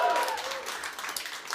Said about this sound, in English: I want to hear like sports stadium applause.